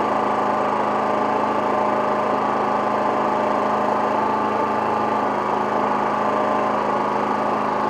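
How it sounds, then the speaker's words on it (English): A GenMax 10500XiT generator idles low and steady, its mid-pitched engine drone holding constant and close throughout with an even mechanical hum and no talking. "right now the generator is as quiet as it goes because it's at low idle"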